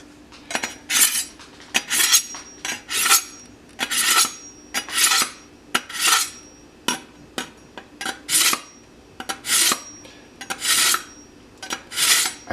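A chef knife is drawn repeatedly through a handheld knife sharpener, making about twenty rhythmic, gritty rasping strokes in quick pairs, close and crisp, with short pauses between them.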